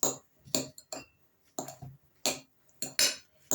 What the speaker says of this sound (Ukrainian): А ми тим часом розминаємо цю картоплю вилкою